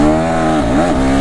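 A KTM 390 Enduro R single-cylinder motorcycle engine revs loud and close while riding, its pitch dipping and rising again through a brief throttle change, with no talking.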